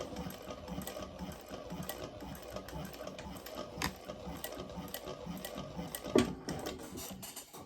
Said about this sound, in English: I'm just doing my best to put the needle down in the top stitching from the step before.